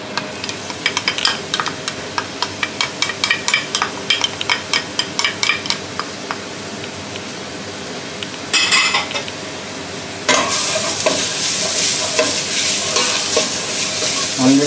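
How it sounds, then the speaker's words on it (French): Chopped onions sweat in olive oil in a risotto pan in a restaurant kitchen, first with a rapid run of metal utensil clinks and stirring taps, then a louder, continuous close sizzle as the frying takes over; no talk. "On prend un petit peu d'huile d'olive qu'on met au fond. Oignons ciselés."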